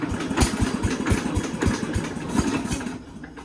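A Mity Kat bulldozer engine cranks and fires after sitting over winter, then settles into a loud, lumpy idle with rhythmic chugging pulses close by, easing slightly at the end.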